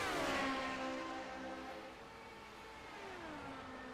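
Vintage Indy race cars race closely on track, their engines whining in a loud pass that fades as the pitch falls, then another engine note rises in the distance.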